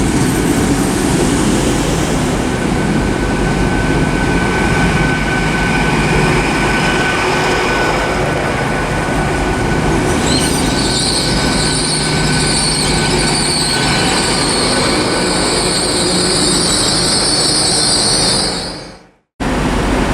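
Great Western Railway Class 800 unit 800 313 at a station, a continuous loud rumble of the moving train joined midway by a sharp, sustained high-pitched wheel squeal, ending in an abrupt brief cutout.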